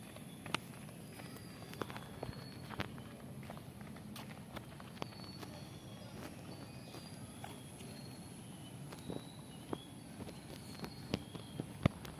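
A Shih Tzu running during exercise, its quick light footfalls patter faintly and irregularly across a quiet outdoor scene, with birdsong in the background.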